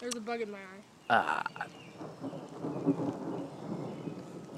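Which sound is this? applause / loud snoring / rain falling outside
rain falling outside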